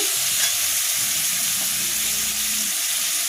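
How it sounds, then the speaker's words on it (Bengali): Chopped onion frying in hot oil for a semolina-ball snack, a steady close broadband sizzle with faint stirring scrapes underneath, continuous throughout with no talking. "এরপর এর মধ্যে দেব পেঁয়াজ কুচি"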